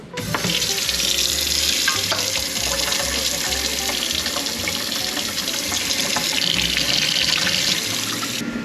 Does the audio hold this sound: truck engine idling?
no